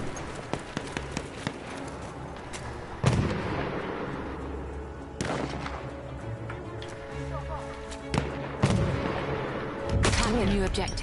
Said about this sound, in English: Wait for the enemy artillery.